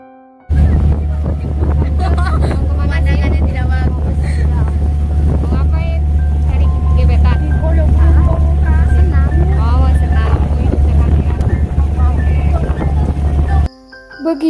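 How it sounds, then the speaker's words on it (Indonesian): SKPT boat crossing the open sea between islands near Natuna, a loud, steady engine drone with wind buffeting the microphone throughout, while people talk over it before the engine noise cuts off near the end. "Beginilah ketika kami berada di atas kapal, mengarungi lautan sekitar 10 menit perjalanan"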